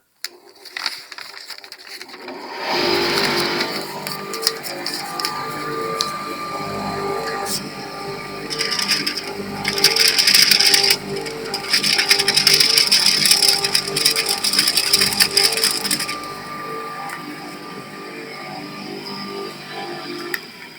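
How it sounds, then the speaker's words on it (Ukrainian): Dust extraction system on a calibrating sanding machine starts up and runs as a loud, steady roar with a constant hum, swelling in the middle, after a quiet start. "Зараз я включу вам покажу, яка потужність потоку повітря."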